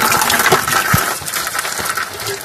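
Coolant water gushes and splashes from a disconnected radiator hose on a VW Transporter T3, a loud, close, continuous pour with a few drips and knocks and no talking.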